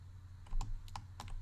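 Several separate clicks of computer keyboard keys pressed during a 3D modelling session, close and fairly quiet over a low steady hum, with no talking.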